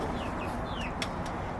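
Hens in a backyard coop give a few soft clucks and short calls, faint over steady outdoor background noise.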